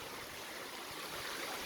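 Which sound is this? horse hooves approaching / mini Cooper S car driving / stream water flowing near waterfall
stream water flowing near waterfall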